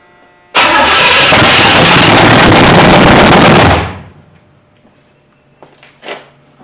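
A 1983 Chevy C10 squarebody V8 fires up after a distributor swap, bursting into a loud, rough, rapid clatter for about three seconds before it cuts out, followed by quiet with faint knocks.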